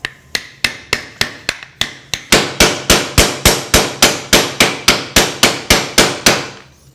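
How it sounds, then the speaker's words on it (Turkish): A hammer taps a seal into place in a steady series of sharp taps, about two dozen blows, growing louder midway, close and alone without talk. "ardından tıklayacağız bir çekiç yardımıyla"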